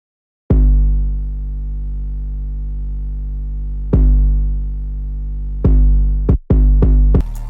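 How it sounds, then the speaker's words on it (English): Deep 808 bass drum pattern from a trap beat: long booming sustained hits spaced apart, then a quicker run of stuttering 808 notes near the end, loud and alone. "So this is what the 808 pattern sounds like."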